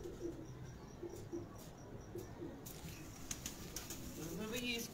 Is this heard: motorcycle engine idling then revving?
no